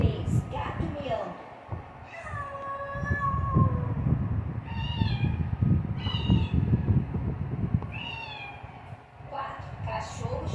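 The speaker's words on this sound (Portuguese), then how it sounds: "Gato miando" A cat meowing in a home, several drawn-out mewing calls spaced a couple of seconds apart, fairly close, over a constant background hum.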